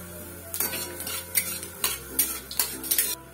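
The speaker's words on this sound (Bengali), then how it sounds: "তেল গরম হয়েছে, এর মধ্যে দিয়ে দিচ্ছি একটা শুকনো লঙ্কা। শুকনো লঙ্কা একটু নাড়াচাড়া দিয়ে নেব।" A single dry red chilli is stirred in hot oil in a pan, with a spoon scraping and clinking against the metal about eight times at an uneven pace over a soft, steady sizzle. The sounds are close and there is no talking.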